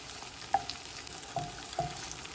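Chopped garlic frying in a pan alongside vegan scallops, a quiet steady sizzle with a few soft clicks and stirring knocks.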